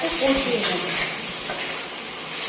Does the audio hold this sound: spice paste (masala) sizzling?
yes